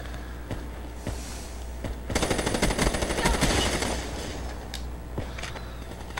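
Rapid automatic fire from an HVK assault rifle in Black Ops 3, a dense, loud burst of closely spaced shots lasting about two seconds, framed by sparse single clicks and quieter game ambience.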